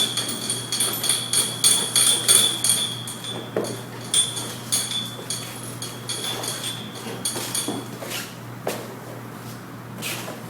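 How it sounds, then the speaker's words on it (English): A nylon brush scrubs a rotary buffer's polishing pad, giving a series of quick rhythmic brushing strokes followed by a few sharper knocks and taps, fairly faint against a steady hum. "I want to use a nylon brush and just real quickly clean my pad here"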